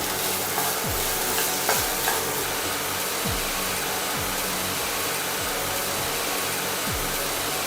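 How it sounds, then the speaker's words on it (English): Rice fried in gravy sizzles in a hot pan, a constant hiss broken by a spatula scraping and stirring every second or so. "Saute this till the rice is completely and evenly covered in the gravy."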